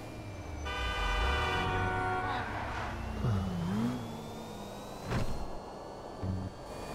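Pfister Neon electric sports car in GTA 5 driving on dirt, with a sweeping electric motor whine, a rising tone, and a couple of short horn-like toots, fairly quiet.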